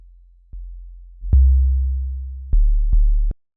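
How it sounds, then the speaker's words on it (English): A synthesized low sine tone struck in four clicky, percussive hits, each with a sharp click at the attack and a short booming sustain. "so we just get that kind of like clicky,"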